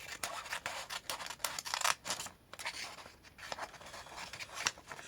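Scissors cutting through a piece of paper, a steady run of close, crisp snips and rustles with brief pauses between cuts.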